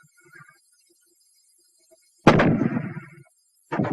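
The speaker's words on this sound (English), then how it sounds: "The fragmentation grenade." A WWII US Army fragmentation grenade explodes in a sharp, loud blast after near silence, its rumble decaying over about a second, followed by the onset of a second burst at the end.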